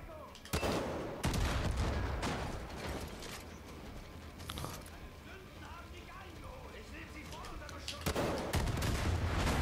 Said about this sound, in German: Habe ich nur den Raketenwerfer.